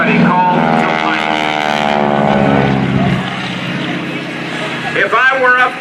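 A T-6 Texan propeller airplane flying at the 2018 NAS Oceana Airshow drones loudly with a harmonic engine buzz that fades partway through, while someone talks over it.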